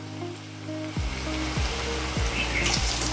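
Pea pakoras fry in hot oil with a steady, close sizzle, punctuated by a few soft knocks as the batter pieces are dropped in or moved around the pan.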